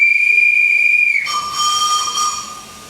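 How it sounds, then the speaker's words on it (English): Historic steam train whistle on a plantation railway tour at St Nicholas Abbey, Barbados: a loud, steady shrill tone that shifts pitch midway and continues with hissing steam for about three seconds, no talk. "And there goes the whistle"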